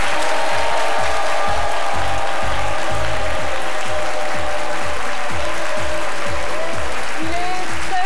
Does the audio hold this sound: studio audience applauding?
yes